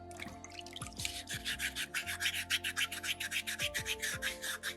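Sandpaper rubbing a soapstone skull carving to remove small scratches, a fast steady run of close, rhythmic strokes with faint background hum.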